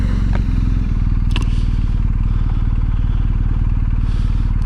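A motorcycle idles close by with a loud, steady low thumping engine rhythm, broken by a couple of sharp clicks and rattles as the rider turns around; no talk is heard.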